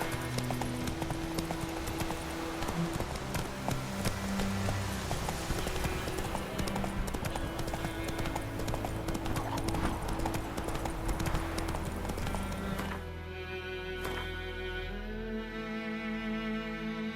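Roach the horse gallops in The Witcher 3, steady rhythmic hoofbeats over a layered game music score, slowing and fading near the end.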